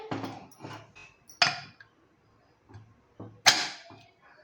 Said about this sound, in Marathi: कुकरचं झाकण लावूया